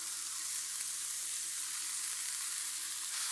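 Garlic and other aromatics sweat with salt in a pan, giving a soft, steady, even sizzle throughout with no talking.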